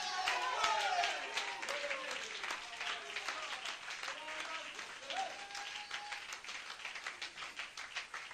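Congregation in a church applauding to acclaim the Lord: a sustained, fairly distant round of many hands clapping, steady and even, with a faint voice speaking and calling out over it.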